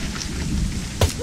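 Steady rain hisses over a mountain bike video game course, accompanied by a low rumble. A brief thump and a short rising tone cut through near the end.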